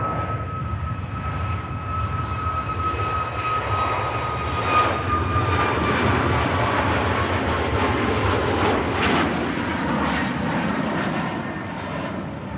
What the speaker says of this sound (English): Aircraft on the taxi from T2.